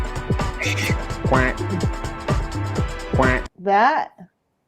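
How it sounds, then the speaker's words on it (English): Duck quacking, a short nasal run of quacks right after a stretch of talk, close and fairly loud before the clip falls silent. "That's what we're trying to do, is the duck quack quack"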